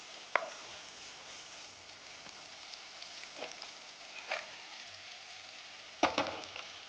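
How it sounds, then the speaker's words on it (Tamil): Vegetables sauté in a hot pan in a home-style Tamil kitchen, a steady soft sizzle broken by a few sharp clinks and scrapes of stirring, with no talking. "நல்லா வதக்குங்க"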